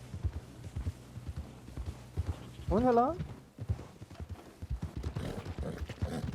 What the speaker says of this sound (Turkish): Tuttuğum ata bak ya. Atın güzelliğine bak ya.